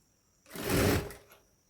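A home sewing machine stitches blouse fabric in one short, quiet burst of fast whirring under a second long, starting and stopping abruptly.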